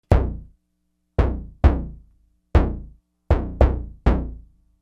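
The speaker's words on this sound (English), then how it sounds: "That's like a nice little knock." A designed knock sound effect built with a free plugin, layered with a low destruction element: seven sharp, dry knocks in an irregular rhythm, each with a quick decaying low-end tail, loud and close with no talk.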